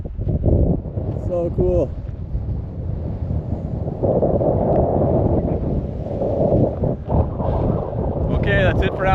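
Strong desert wind buffets the microphone in a steady, loud roar throughout, with people talking briefly over it near the start and end.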